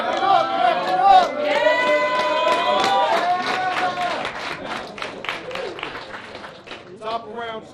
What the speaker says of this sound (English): Y'all clap it up, clap it up.